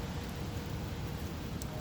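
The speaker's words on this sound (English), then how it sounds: "Pretty much we out here in the rain." Rain falling outdoors, a soft, even hiss that stays steady and unbroken throughout, with no voices over it.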